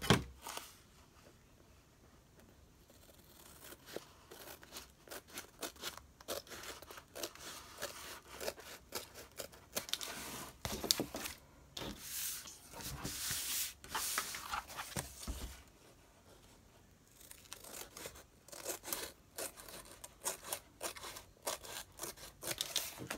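Scissors snip and cut through junk journal cover material in repeated crisp bursts with rustling between them, close and fairly quiet, with short pauses.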